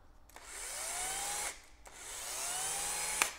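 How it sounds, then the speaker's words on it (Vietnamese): A Japanese hydraulic hammer drill runs in two bursts of about a second and a half each, a steady whirring drone with a rising motor pitch at each start and a short pause between the bursts, close and fairly quiet. "Nó là búa dầu thủy lực nha mọi người, búa dầu thủy lực nên rất là êm."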